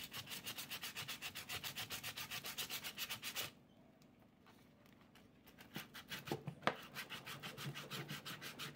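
Steady rhythmic rubbing as paper scrubs a hot glue gun clean, fast even strokes that pause briefly midway, with a few clicks and knocks, then resume close by and fairly quiet.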